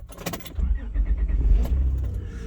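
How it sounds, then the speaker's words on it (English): A car engine cranks and catches after a few clicks and jangling keys, then settles into a steady low idle close by; the car is a troublesome lemon that often needed a jump start. "It's so nice to be able to start this stupid lemon car without having to jump start it every time."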